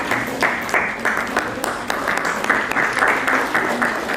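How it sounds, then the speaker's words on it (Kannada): Audience applause fills a public gathering, many hands clapping with a faint pulsing rhythm that rises and falls in waves, moderately loud and continuous throughout. "ಚಪ್ಪಾಳೆಗಳ ಮೂಲಕ"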